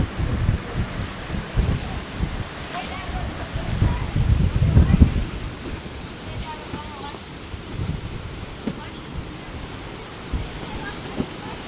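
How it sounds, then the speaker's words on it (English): Strong gusting wind in Miami ahead of Hurricane Milton roars across an outdoor microphone as a broad, rumbling noise that swells heavily in the middle, with faint voices and street sounds underneath. "Wow, look at how windy."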